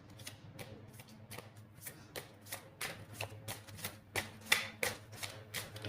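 A deck of oracle cards is shuffled by hand up close, soft riffling and slapping bursts repeating in an irregular rhythm, quiet and alone.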